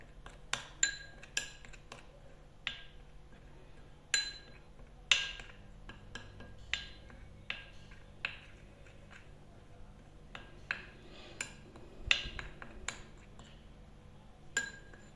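A spoon clinks repeatedly against a bowl while face mask ingredients are mixed, sharp light taps landing at an irregular rhythm over a quiet background.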